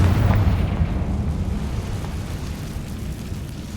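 A Confringo fire spell bursts in the Hogwarts Legacy video game: one loud, deep boom opens the clip, then its rumble slowly fades away with no other sounds.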